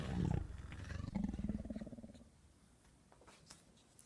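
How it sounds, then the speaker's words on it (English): A dinosaur roar sound effect plays in a children's read-aloud story, a deep growling roar with a rumbling purr-like tail that fades out over a few seconds, loud and alone. "And they met a dinosaur who clawed and roared and said, "I'm going to get you.""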